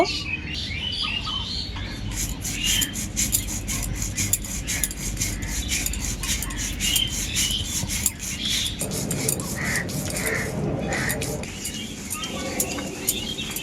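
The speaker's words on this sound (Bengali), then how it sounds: "প্রথমেই আমি বেটে নেব পোস্ত" Poppy seeds being ground into a paste by hand for a chhana sweet, heard as a continuous close rasping and scraping with faint clinks and bird chirps in the background.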